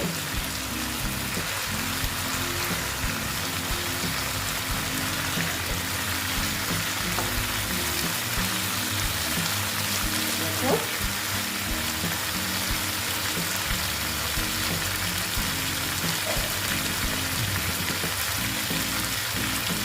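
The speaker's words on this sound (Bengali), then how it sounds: "মশলার সঙ্গে একটু মাছগুলোকে ভেজে নিচ্ছি" Rohu fish pieces fry with a mustard-poppy masala in a pan, giving a steady, close, even hiss like light rain that runs throughout with no talking.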